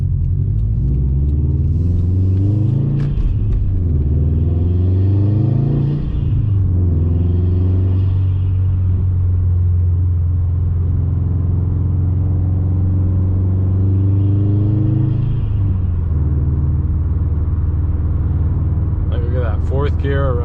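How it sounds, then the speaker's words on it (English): A 2021 Subaru WRX STi with an RK Titanium track exhaust on the stock downpipe drones at steady cruise, a low sustained engine hum with a couple of gentle rev swells, heard under continuous talking from inside the car. "this exhaust honestly is not that bad. It really doesn't even sound that loud."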